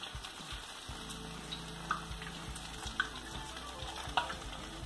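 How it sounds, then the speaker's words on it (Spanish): Grated potato and cheese patties sizzle steadily in a hot frying pan, with crackling oil and occasional sharper pops and clinks, close and fairly quiet. "Y le vamos a agregar lo que quepa aquí en nuestro sartén para que se frían bien."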